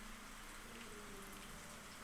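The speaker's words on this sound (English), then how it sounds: "And it's raining again." Rain falling in Rising World, a steady soft hiss of drops filling the background, faint and even throughout.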